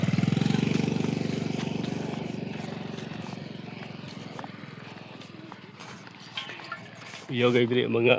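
Motorcycles without plate numbers idle and rev close by, a loud chugging engine rumble that slowly fades, with people talking over it and a louder burst near the end.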